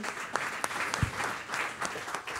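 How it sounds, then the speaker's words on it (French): Applause at an awards ceremony for the Domaine Le Castanier winners, a dense crowd clapping continuously with a few sharper individual claps standing out. "Je voudrais vraiment qu'on vous applaudisse tous les deux, s'il vous plaît, le domaine Le Castanier."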